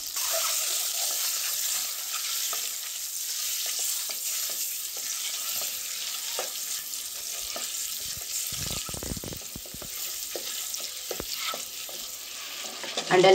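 Eggs fry in a kadhai with turmeric and Kashmiri chili powder, giving a loud, steady hiss of oil with occasional crackles and a few spatula scrapes close by.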